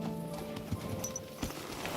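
Horse hooves clip-clopping in Kingdom Come: Deliverance 2, a steady soft walking rhythm with a couple of louder hoof strikes, over a low game ambience and no speech.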